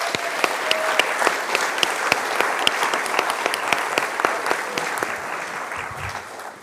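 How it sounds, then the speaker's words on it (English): Library audience applauds honored guests at an author event, a steady round of clapping with a few sharp individual claps standing out near the front, easing slightly at the end. "Can we please give them a round of applause?"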